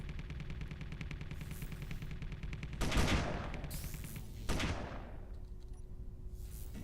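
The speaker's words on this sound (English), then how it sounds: "Look, there's a turret clearly firing on us" Turret gunfire in the Space Engineers game: a steady rapid rattle of distant automatic fire with two louder, sharper bursts cutting in partway through, no voices.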